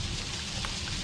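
Steady rain falls in the horror game Outlast, a dense, even hiss that holds without a break for the whole moment and sits close with no other sound over it.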